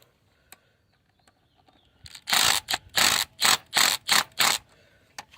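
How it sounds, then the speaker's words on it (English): Impact wrench running tow package bolts into a 2019 Chevrolet Silverado, a series of about eight loud, close rattling bursts in quick succession after a few faint clicks, no talking. "Then just take an impact and run it in."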